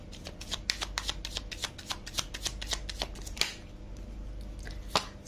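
Tarot cards shuffled close up in a quick run of crisp riffling flicks, then a pause broken by a few isolated card snaps, with no voices.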